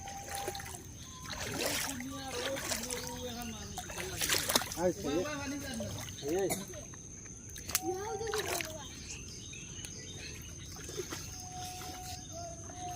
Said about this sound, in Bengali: আমাদের জলে হেঁটে হেঁটে যেতে হচ্ছে